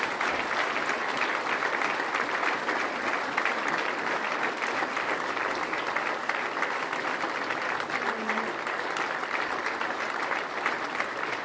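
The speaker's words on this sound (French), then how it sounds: "pour la féliciter, nous allons tout simplement l'applaudir" Sustained applause from a crowd at a mayor's speech in Benfeld, steady and dense clapping throughout with no pauses.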